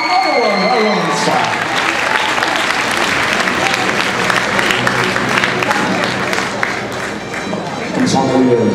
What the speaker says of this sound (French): applaudissements pour Claire, Claire Chex